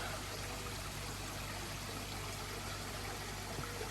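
Water flowing steadily outdoors on a fine evening under a blue sky, a continuous broadband rushing stream sound that stays even and unbroken throughout, with a low hum underneath and no talking.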